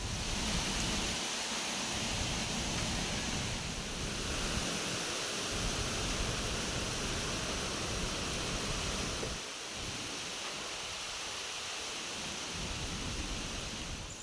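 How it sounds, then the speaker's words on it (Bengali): Strong wind blowing outdoors in a rural setting during rainy weather, a steady broad roar with gusts swelling and easing, fairly loud and continuous with no speech. "আর দেখো এখন কি পরিমাণে হাওয়া ছেড়েছে"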